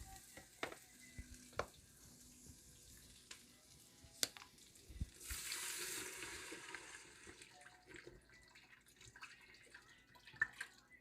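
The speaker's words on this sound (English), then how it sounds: "I'm going to put the water in. That'll keep it from burning." Water poured into a cooking pot of West African peanut stew makes a rushing, splashing burst in the middle, surrounded by faint sizzling and scattered clinks and taps from the pot.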